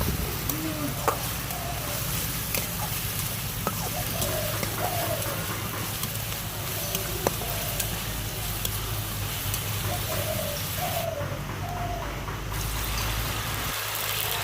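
Chopped garlic and grated onion fry in hot oil in a village kitchen, making a steady crackling sizzle under a low background hum, with faint chirps scattered throughout.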